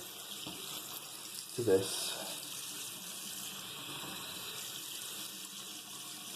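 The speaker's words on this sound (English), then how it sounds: "all I'm going to do is I'm going to add cold water" Cold water runs steadily from a tap into a container for a DIY colloidal silver mask soak, a continuous close rush with a brief splashy burst near the start and a short spoken phrase over it.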